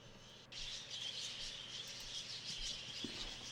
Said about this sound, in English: let's brave into the bird room with all its noise